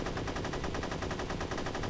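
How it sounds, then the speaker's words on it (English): Rapid machine-gun fire from a helicopter in the video game Unearthed: Trail of Ibn Battuta, a continuous fast rattle of shots, loud and steady with no speech. "there's something shooting at us from above, and that's a helicopter"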